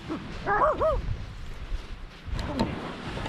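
A dog yips and whimpers in a few short rising cries near a boat on a sea-fishing outing at coastal marshes, with a second brief yelp after a pause over low outdoor background noise.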